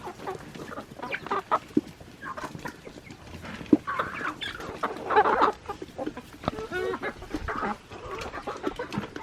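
Chickens on a homestead clucking and squawking at feeding time, a busy overlapping chorus of close, irregular calls with a few louder squawks.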